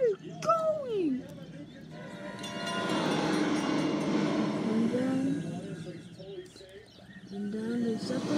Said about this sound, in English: the gates go down away because of how fast the train is going